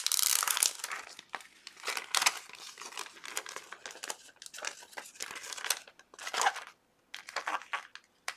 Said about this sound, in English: So we're going to put this back on the piece of transfer tape I got it from.